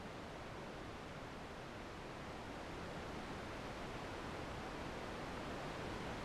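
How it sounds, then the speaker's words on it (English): Synthesized wind made in VCV Rack for an artificial rainstorm, a soft steady hiss that drifts gently between left and right, faint and unbroken with no other sounds. "Now it runs that sequence and we have a subtle pan of the wind."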